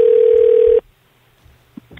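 A telephone line plays a loud, steady dial tone for under a second while a call is being connected, then cuts off abruptly to near silence with a couple of faint clicks.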